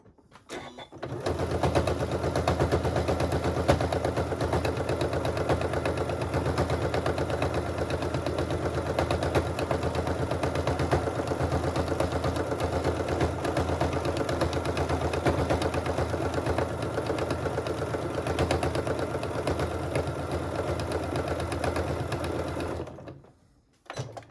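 A sewing machine runs one long, unbroken row of stitching on fabric for a chef's hat, its rapid needle chatter steady and close for over twenty seconds before stopping.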